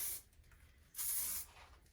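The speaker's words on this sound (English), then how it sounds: "spray the hairspray from the bottom. So you're spraying up." Two bursts of aerosol hairspray up close, sprayed upward at the roots of short hair, a brief hiss followed by a longer, steady spray about half a second long.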